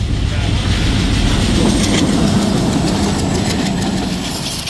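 Loud, steady rumble of a moving train with rhythmic rattling of the carriages, heard from on board, continuous throughout.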